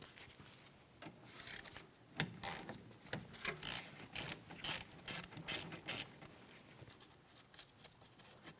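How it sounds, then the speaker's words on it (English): A ratchet with a 14mm socket working the caliper slider bolts on the rear brakes of a 2007-2014 Ford Edge gives a series of quick, close metallic clicking bursts in an uneven rhythm, with short pauses in between. "We're going to be using a 14mm for each one of our caliper slider mounting bolts."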